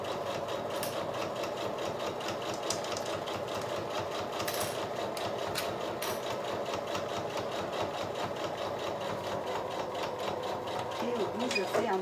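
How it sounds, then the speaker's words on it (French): A sewing machine runs steadily along the full length of a fanny pack seam, a fast continuous mechanical whir and rattle at close range with no pauses. "je viens coudre sur toute la longueur tranquillement."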